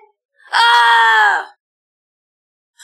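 A woman's single loud, drawn-out scream in a Tagalog horror story, lasting about a second, close and isolated against near silence.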